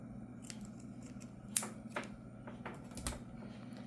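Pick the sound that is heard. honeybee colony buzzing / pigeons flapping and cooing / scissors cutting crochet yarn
scissors cutting crochet yarn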